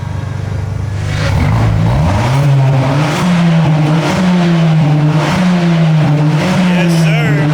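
A Mazda 3 Turbo with its resonator deleted revs loudly up close, its engine note climbing in pitch, then settling and rising again in a series of throttle blips, with voices faint underneath.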